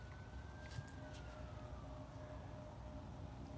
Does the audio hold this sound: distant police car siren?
yes